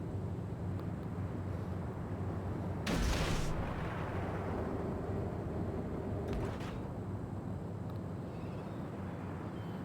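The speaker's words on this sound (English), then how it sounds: "And as you do with the destroyer, fire another salvo." A destroyer in World of Warships fires a gun salvo, a short sharp boom rising out of a steady low engine and sea rumble, followed by a fainter second report a few seconds later.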